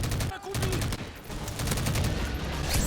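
Rapid bursts of automatic rifle fire from a G36 in Call of Duty: Modern Warfare 3 Remastered multiplayer, loud and continuous across the clip with brief gaps between volleys and a faint game voice mixed in.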